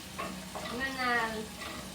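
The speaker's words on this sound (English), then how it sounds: "mix the garlic and the shallots until it fragrance" Garlic and shallots stir-fry in a pan with a steady close sizzle and the light scrape of stirring, while a voice speaks briefly over the cooking.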